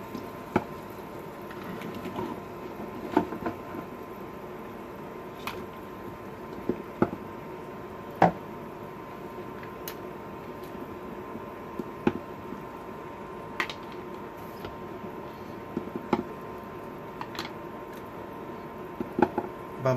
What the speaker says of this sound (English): now I can lower them into boiling water with slotted spoon